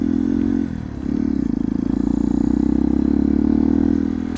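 A Hero XPulse motorcycle cruises on a highway, its engine a steady, loud droning hum with rushing wind. There is a brief dip near the start, then an even, sustained pull.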